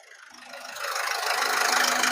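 The engine of a 2016 Ford EcoSport Titanium starts low and steady, then climbs into a louder, sustained rev, with a faint rattle under the even drone of the motor.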